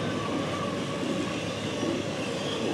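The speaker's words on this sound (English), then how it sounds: "this one is 20Q, the short intermodal train" A short intermodal freight train led by three locomotives rumbles past close by, a steady dense roar of wheels and rail noise with faint clickety-clack and no voices.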